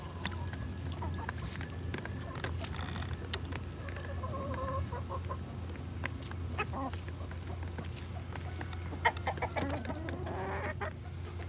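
A flock of backyard chickens clucks and murmurs continuously while pecking at a meal of chili, with scattered squawks and a steady low hum underneath, moderately close.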